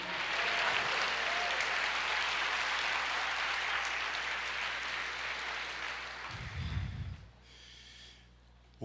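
Church congregation clapping during a service, a dense sustained roar of applause for about seven seconds that fades abruptly, with a brief low murmur and a short tonal sound as it dies away.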